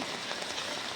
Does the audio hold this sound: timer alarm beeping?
no